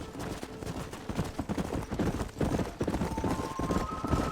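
Steady clip-clop of several horses' hooves trotting, close and continuous, with a faint whinny and no talking, in the video game Red Dead Redemption.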